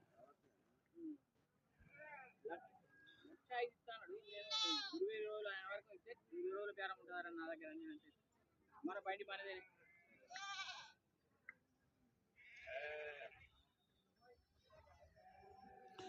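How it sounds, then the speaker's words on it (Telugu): Goats bleat again and again at a weekly Saturday livestock market in Dubbaka, wavering calls from several animals overlapping and pausing, fairly close but quiet overall. "ఏడు మేకపోతులు ఒకటి పొట్టేలు నాలుగు మేకలు"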